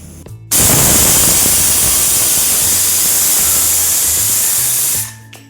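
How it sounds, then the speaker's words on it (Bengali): A pressure cooker of ghugni lets off a single loud, sustained whistle-hiss lasting several seconds, starting abruptly and cutting off near the end, close by in a home kitchen with no talking. "একটা সিটি উঠে গেল, এবার কুকারটা সাইডে রাখবো"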